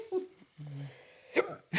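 A couple of short, abrupt hiccups, close and fairly quiet, broken up by breaths and faint vocal sounds.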